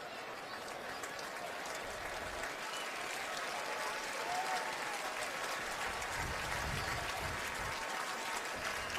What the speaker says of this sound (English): Nate hearing the applause from this crowd as he hobbles to the sideline.